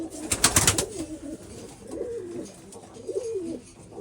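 Soft, low pigeon cooing repeats in rolling phrases inside a coop against a steady background hiss, with a brief rustling flutter near the start.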